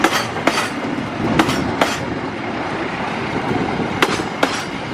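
Argo Parahyangan passenger train picking up speed on the rails, a steady broadband rumble with repeated sharp clickety-clack wheel hits at the rail joints, close and loud, with no talk.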